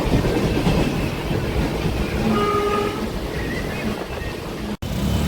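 Riding inside a moving passenger train, a continuous rumble of wheels on track with faint rattling and a brief tonal whine partway through, heard from within the carriage with no talk.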